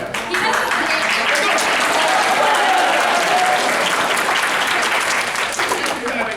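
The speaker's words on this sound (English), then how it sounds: "I decided, by the way, that I'm going to try and start random clapping." Audience at an anime convention panel bursts into steady, loud applause that fills the whole stretch without a break, with a faint crowd murmur beneath.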